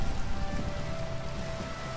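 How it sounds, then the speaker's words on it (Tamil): Heavy rain falls in the video game Minecraft, a dense, steady patter that stays loud and even throughout with no distinct thunderclap. "கே வெளியே பயங்கர இடியும் மழையும் பேஞ்சிக்கிட்டு இருக்குது."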